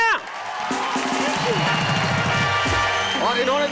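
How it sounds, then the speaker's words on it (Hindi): Audience applause and cheering at a Hindi comedy poetry show, loud crowd clapping with whoops under musical tones and a performer's voice throughout. "तालियां।"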